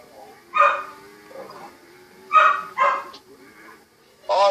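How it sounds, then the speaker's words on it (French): A dog at a farm gives several short barks and yips at moderate distance, spaced out over a quiet background with some voices. "Oh, le chien à la ferme."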